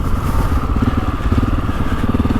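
A GasGas ES 700 motorcycle fitted with Wings mufflers and a medium dB killer runs at low revs, a loud, close, steady thumping engine rumble with no talking.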